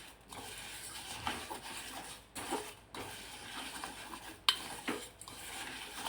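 Lemon pickle with melting jaggery syrup stirred in a pot: faint scraping and rubbing strokes of a spoon against the pot, repeated at uneven intervals in a quiet room.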